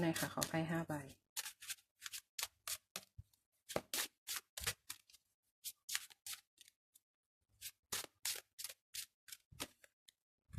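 Tarot cards are shuffled in a reading, with a brief voice at the start and then a run of short, crisp riffling bursts in uneven groups separated by brief pauses.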